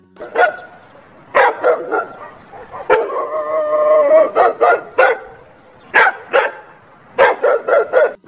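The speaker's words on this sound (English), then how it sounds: "D for dog." Close dog barks in short bursts, mixed with a drawn-out howling whine in the middle, then more sharp barks in quick succession.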